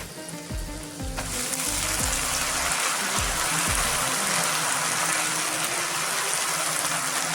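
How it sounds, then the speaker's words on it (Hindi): Drumstick leaves and moong dal frying in a pan, a dense, steady sizzle with a few low knocks and scrapes from stirring at the start, then continuous crackling close by. "अभी मैं और 5 मिनट्स में फ्राई करेंगे।"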